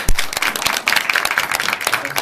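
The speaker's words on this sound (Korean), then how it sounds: "우리 한번 환영할까요? 박수 한번 해주세요." A church congregation at a Friday special service claps in welcome for the pastor, a dense burst of applause mixed with voices for a couple of seconds.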